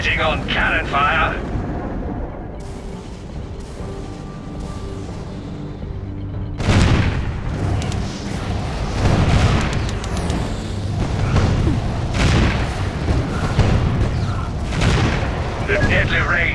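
Booming cannon blasts and explosions from the video game Defense Grid: The Awakening crash in a dense, continuous barrage over game music, with a heavy burst partway through and rumbling impacts throughout.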